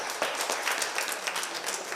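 A group clapping after a posture and bone-strengthening exercise, steady, fairly close applause with no pause throughout.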